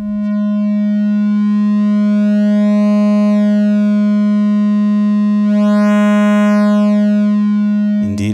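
A steady synthesizer tone passes through a driven cDVCA kit module from AtoVproject. The sustained buzzy drone holds one pitch, with brighter sweeping overtones swelling in and out before it cuts off abruptly.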